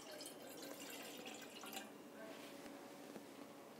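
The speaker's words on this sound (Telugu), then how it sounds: "ఇప్పుడు దాంట్లో నీళ్ళు పోసుకోవాలండి." Water is poured into a metal pot set on a stove, a steady trickling splash that runs for a few seconds at close range, with no voices.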